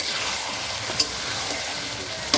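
Mutton fat frying in a steel pan, a steady close hiss of sizzling with a couple of sharp pops and a light stirring scrape.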